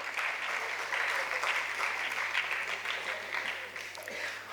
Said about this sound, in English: please give a round of big applause